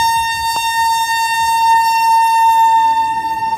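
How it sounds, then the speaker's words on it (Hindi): A long steady horn sounds at a closed railway crossing as a train arrives, a loud sustained tone held for several seconds, near and unbroken, with no voices. "थोड़ी देर बाद ट्रेन आ जाती है।"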